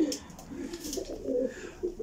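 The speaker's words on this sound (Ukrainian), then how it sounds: "Білий голуб" A white male pigeon cooing softly at a breeder's loft, low rolling coos repeating over a couple of seconds, faint and close, with quiet background noise.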